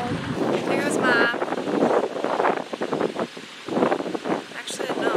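Strong wind buffets the microphone on a breezy outdoor afternoon near water, a steady roar of gusts with a voice speaking over it.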